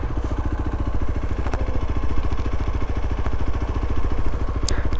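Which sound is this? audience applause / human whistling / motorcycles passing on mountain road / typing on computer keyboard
motorcycles passing on mountain road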